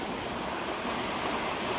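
Curtis Falls in Mount Tamborine National Park flowing strongly, a continuous broad roar of falling water heard up close with no pauses or voices.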